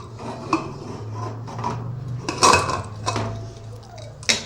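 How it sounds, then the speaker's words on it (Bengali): A pressure cooker lid is lifted off after baking a vanilla sponge cake, with metallic clinks and scraping of the pot, a few sharp knocks standing out against low kitchen hum. "এবার ঢাকনাটা খুলে একটু দেখে নিচ্ছি।"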